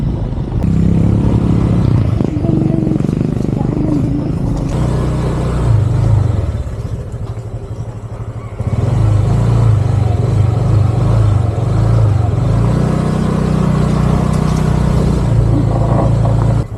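A motorcycle engine on a trail toward a mountain campsite rumbles steadily and close throughout, its pitch rising and falling as it revs, with brief dips between pushes.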